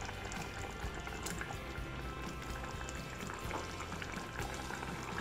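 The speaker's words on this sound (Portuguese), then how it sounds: "Agora eu vou adicionar o creme de leite" Cream is poured into simmering chicken broth for a stroganoff, heard as steady close bubbling and a soft liquid wash throughout at low level.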